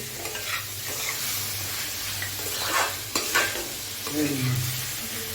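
Chicken curry being stirred in a pan with salt added, a steady scraping and sizzling texture running throughout with a few louder spoon strokes toward the end, close and moderately loud with no talking.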